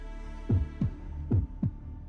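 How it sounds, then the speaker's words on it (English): A deep, ominous heartbeat echoes through a castle in the video game Fate/Grand Order: two pairs of heavy, low thumps in a slow lub-dub rhythm over a droning hum. "Just listen to that heartbeat."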